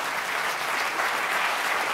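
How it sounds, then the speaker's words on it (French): Audience applause, steady and dense clapping filling the whole moment at moderate level, with no voices over it. "Soyez gentils, ne m'applaudissez pas que je chante pour la bonne cause"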